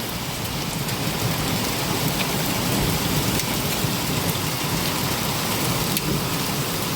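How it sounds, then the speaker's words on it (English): Heavy rain and hail pour down steadily outside a house in Lakeview, Ohio, a dense, loud hiss with scattered sharp ticks and a low rumble, with no talk. "It's still hailing."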